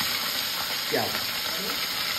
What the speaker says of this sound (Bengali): এই যে এবার ছাক্কা ছাক্কা তেলে বড় বড় মাছগুলো যাবে ভেজে ভেজে।